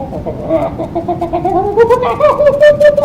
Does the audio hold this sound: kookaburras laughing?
yes